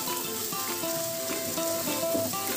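Fried paneer cubes being stirred into cooked spinach in a hot pan, a continuous close sizzle with faint scraping, while tones sound over it.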